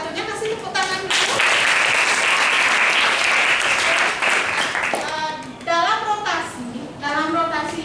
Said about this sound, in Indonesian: Untuk absen satunya kasih tepuk tangan dulu.